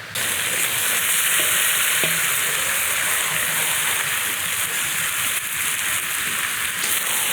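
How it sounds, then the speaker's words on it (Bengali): Mutton goes into hot oil with deeply fried onions in a pot for mutton curry with potatoes, and a loud, dense, continuous sizzle fills the clip, close and steady, with no talking. "এখনই মাংসটা ঢেলে দিই"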